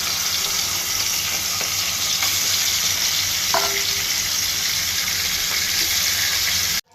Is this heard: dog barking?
no